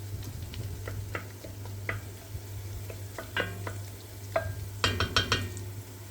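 Sautéed green beans are spread across the bottom of a cooking pot, a soft steady sizzle with scattered light scrapes and clinks of a utensil against metal, growing a little busier toward the end.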